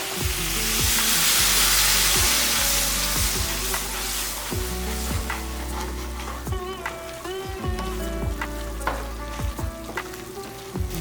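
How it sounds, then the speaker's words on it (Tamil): Spices and sour-free yogurt sauté in a pan for a Tamil chicken fry, a steady sizzle with repeated scraping stirs and clinks of a spoon, close and alone. "எல்லாமே நல்லா வதக்கியாச்சு"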